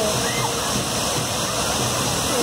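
A river rushes at its source in Caldas, giving a loud, steady, broadband roar of flowing water with no pauses.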